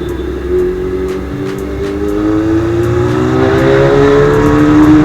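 Engine of a 600 motorcycle revving steadily, a loud continuous drone whose pitch climbs gradually over several seconds, close by with no speech.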